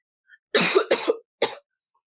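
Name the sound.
imitated coughing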